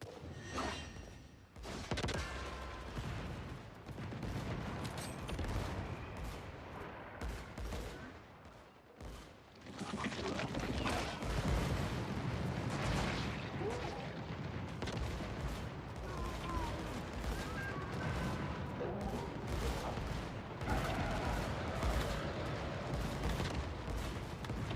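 A Gatling gun roars in sustained bursts during a Once Human world boss fight, dense rapid fire and booming impacts forming a loud continuous barrage that dips briefly midway before resuming, with a voice talking faintly beneath.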